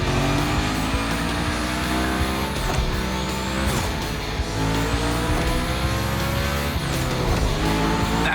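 A car sliding through a gymkhana course in the racing game The Crew Motorfest: a loud, steady engine roar with long tire squeals and skidding, and gear-shift pitch drops repeating every few seconds.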